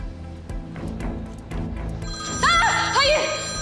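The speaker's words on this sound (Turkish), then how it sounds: "Telefonunuz çalıyor" A telephone rings with a bright electronic warbling tone that repeats in short bursts, preceded by background music and rising louder toward the end.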